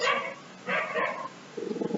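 A dog gives a few short, sharp barks nearby, followed by quieter yipping.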